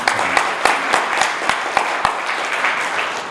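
An audience at a Korean leadership ceremony bursts into loud, close applause, a dense run of many hands clapping with sharp individual claps standing out.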